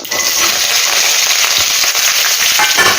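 Onion, green chillies and curry leaves frying in hot oil for a tempering while making a tomato curry, a loud, steady, dense sizzle with light stirring scrapes running throughout.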